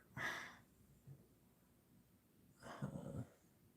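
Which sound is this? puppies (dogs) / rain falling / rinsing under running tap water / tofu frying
puppies (dogs)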